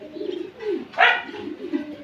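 Royal Terry pigeons coo softly up close in low, throaty burbling calls, broken by a brief brighter flutter or rustle partway through.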